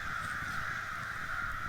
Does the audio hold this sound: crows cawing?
yes